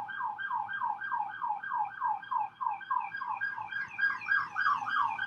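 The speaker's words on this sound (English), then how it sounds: "A siren? In these parts?" A warbling electronic siren cycles rapidly and steadily, the same repeating wail sounding continuously at moderate volume throughout.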